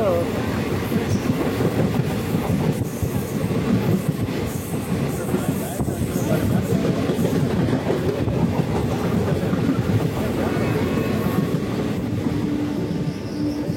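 An express train rumbles past at speed in the Western Ghats of Tamil Nadu, a loud continuous roar with rattling wheels and faint clacking throughout.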